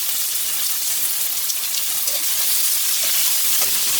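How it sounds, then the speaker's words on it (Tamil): Chopped big onions frying in hot oil with spices for Madurai salna, a dense steady sizzling hiss that stays loud and even throughout, close up with no voices. "வெட்டி வச்சுருக்க பெரிய வெங்காயம், ஒரு 2 பெரிய வெங்காயம் அதை இதில் சேர்த்துக்கலாங்க"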